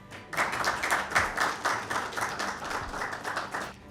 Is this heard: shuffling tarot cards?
no